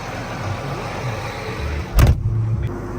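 A tractor engine drones steadily from inside the cab during a harvest-day repair, a low continuous rumble broken by one sudden loud knock or thump near the end.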